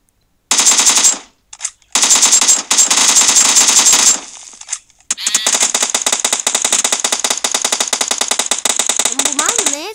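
Automatic rifle gunfire in the PUBG battle royale game, loud rapid bursts of shots in two short volleys, then a long sustained stream of fire with a voice briefly heard between bursts.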